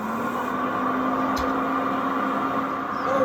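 A Eureka model 1020A VibraBeat upright vacuum cleaner runs with a steady, close motor drone and an even whine of moving air, holding constant throughout.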